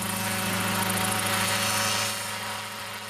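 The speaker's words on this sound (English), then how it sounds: "played with remote control helicopters just like this one as a kid" A remote control helicopter drone flies nearby with a steady, loud rotor drone and engine whine that carries on without a break, easing off slightly toward the end.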